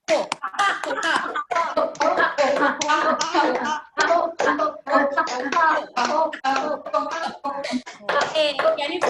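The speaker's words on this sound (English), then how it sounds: "Wide open, and do claps. 1, 2, 1, 2, 1, 2." A laughter yoga group claps in a steady two-beat rhythm, sharp bursts in quick repeating clusters with brief pauses, mixed with chanting and laughing voices.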